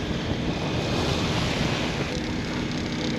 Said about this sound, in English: Some quite big swells. Well, I don't know, should be around 2 meters, but they're really throwing us around.